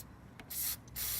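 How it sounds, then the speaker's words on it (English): WD-40 sprayed from a can into a metal coolant pipe on a Ford BF II Ghia engine, two short close hissing bursts after a faint tap, with no talking. "I'm actually going to spray a little bit of WD-40"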